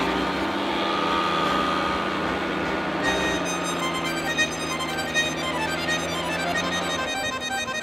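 Tractor engine pulling a Tajfun GAP140 forestry trailer through snow in a forest: a steady droning engine hum with a strong low tone, the pitch shifting as it labours, continuous and fairly close.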